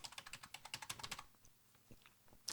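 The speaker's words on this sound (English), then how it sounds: "remember you can use the keyboard and press Control and H" Rapid keystrokes on a computer keyboard for a Control and H shortcut, a quick run of crisp clicks followed by a few sparse, softer taps and a final sharp press, close and moderately quiet.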